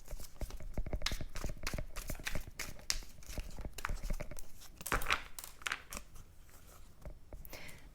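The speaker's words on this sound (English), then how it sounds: "one more shuffle here" A deck of Modern Witch Tarot cards is shuffled up close, giving a dense, continuous papery riffling and crackling with quick flutters and no talking.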